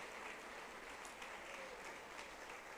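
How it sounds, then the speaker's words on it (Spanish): A church congregation applauds, a steady wash of faint, distant clapping that holds evenly throughout. "Fuerte ese aplauso a la palabra de Dios."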